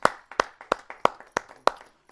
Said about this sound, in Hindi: आइए सर का हम जोरदार तालियों से स्वागत करते हैं।